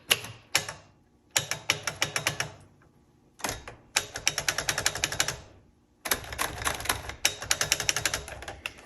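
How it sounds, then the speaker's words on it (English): A 1968 Royal Custom II manual typewriter types in rapid bursts of sharp key strikes, with short pauses between groups and occasional backspacing, loud and close with no voices. "So I hit margin release, M-A-R right here, R-E-L, that's margin release"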